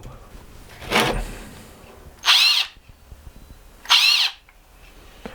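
A cordless drill driver, one of a Ridgid, Ryobi and Hart set, spins up in three short bursts: a brief first whir, then two louder high-pitched motor whines about a second and a half apart, with quiet gaps and no talking.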